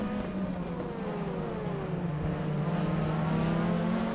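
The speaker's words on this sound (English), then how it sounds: "That LMP3 about to unlap itself from me, yes it is." An LMP3 prototype race car in rFactor drawing alongside at speed, a steady loud engine drone with a pitch sweep as it passes, over the player's own car's hum.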